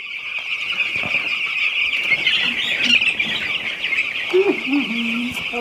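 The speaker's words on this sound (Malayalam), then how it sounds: "ഇവിടെയാണെങ്കിൽ കുറേ കോഴിക്കുഞ്ഞുണ്ട്" Many chicks in a chicken coop chirping in a dense, continuous high twitter, close and steady throughout, with brief low voices and clucks mixed in near the end.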